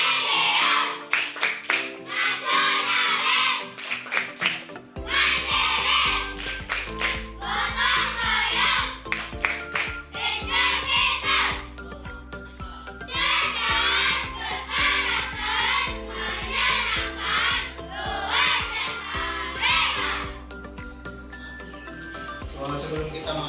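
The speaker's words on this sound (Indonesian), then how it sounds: "Coba sekali lagi tepuk PPK." A third-grade class claps out the PPK clap chant in rhythmic bursts of hand claps, with children's voices chanting along through several repeated patterns over about twenty seconds.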